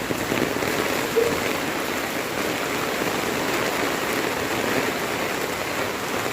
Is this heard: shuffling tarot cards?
no